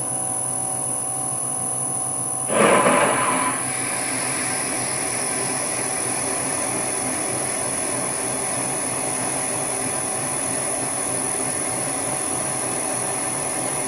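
Vintage Karger lathe turning at 180 RPM, a steady broadband mechanical hum running throughout, with a brief louder scraping burst near the start as the cutter bites the workpiece.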